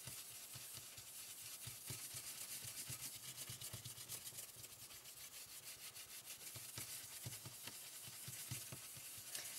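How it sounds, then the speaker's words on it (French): Stencil brush dabbing and rubbing colour onto a stencil, a quiet, close, steady scrubbing texture with soft repeated taps. "en ajoutant beaucoup plus de couleurs et en appuyant plus fort sur notre brosse"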